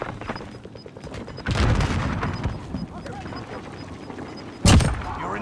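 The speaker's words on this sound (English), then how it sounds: "I'm under fire!" Gunfire in Call of Duty: Warzone, a few bursts of shots under game voice lines, with one sharp loud blast near the end.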